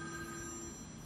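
A mobile phone rings at an outdoor sungazing meetup, a steady electronic ringtone with sustained tones that carries on evenly throughout at moderate volume, with no talking over it.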